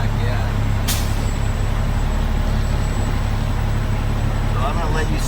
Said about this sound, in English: I'm going to go move the truck.